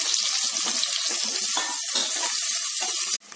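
Thinly sliced onions frying in a pan on the stove give off a steady, dense sizzle that holds evenly for about three seconds and then cuts off abruptly.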